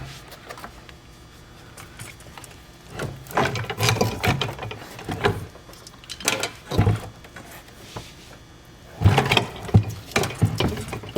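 Spa pump bolts being tightened by hand on a pump base, giving irregular bursts of ratcheting and metallic clicking with short pauses between, close by and moderately loud.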